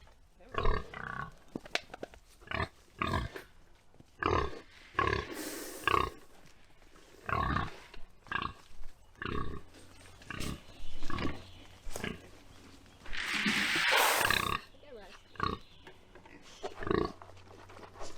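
Pigs grunt and snort during morning farm chores, with many short, close grunts in an irregular rhythm and one longer, harsher squeal partway through.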